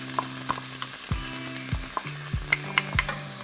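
Onion frying in a pan with a steady sizzle throughout, broken by repeated scraping strokes of a spatula stirring the pieces, close and clear with no talking.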